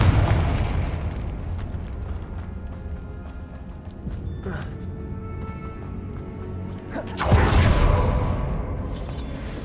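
A fire spell from the Hogwarts Legacy video game bursts in a deep, booming explosion, with a second loud whooshing blast rising near the end over rumbling game ambience.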